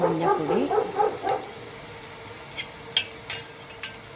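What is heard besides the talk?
dog barking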